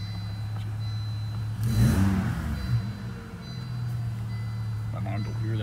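A car engine idling with a steady low drone, then briefly revving up around the middle before settling back to idle; a voice speaks over part of it.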